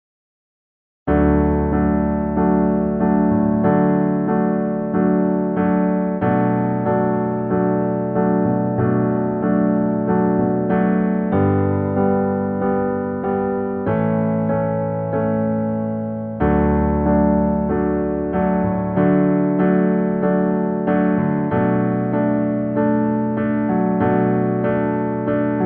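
Solo piano plays the chorus of a song, steady rhythmic chords with a clear melody on top, close and loud, no voices, running without a break after a brief silence at the start.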